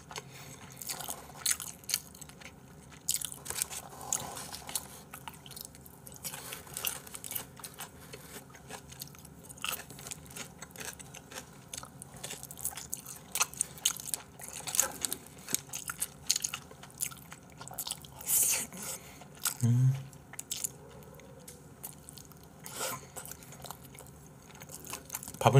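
Crunchy fried chicken from a Guro-area tongdak shop being bitten and chewed close up, with repeated crisp crunches and soft squishy mastication over a quiet background, and a brief spoken remark.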